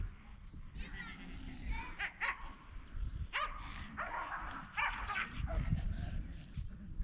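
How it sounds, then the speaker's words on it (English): Several dogs bark and yip in short bursts at a fish-rearing farm while people talk nearby. "The dogs here are becoming so hectic."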